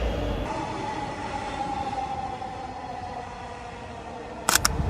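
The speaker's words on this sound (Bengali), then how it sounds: "ট্রেন আসলে মেট্রো রেলে উঠে যাব।" A metro rail train pulls into the station with a smooth, steady rumble and a faint rising whine, ending in a couple of brief sharp clicks.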